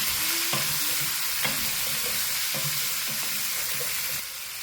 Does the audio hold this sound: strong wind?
no